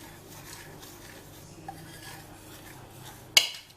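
Milk chocolate ganache with butter is stirred in a bowl in slow circular motions for a bûche. Faint, soft scraping and rubbing continue quietly, ending with one sharp clink of utensil against the bowl.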